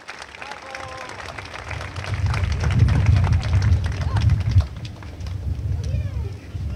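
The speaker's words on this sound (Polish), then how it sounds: "Jeszcze raz gorące brawa" Warm applause from a crowd at a political rally in Płock, a dense sustained patter of many hands that swells and stays loud for several seconds, with voices mixed in.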